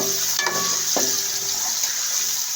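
Lengthwise-cut carrots go into a pan of frying pulao base, bringing a loud continuous sizzle with a couple of sharp clinks and stirring knocks near the start.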